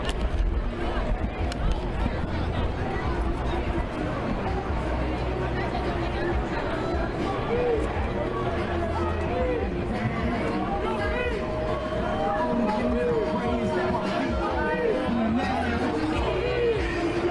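A dense crowd at a street protest in Atlanta, constant close chatter and overlapping voices with shouts rising from the babble, steady and loud throughout.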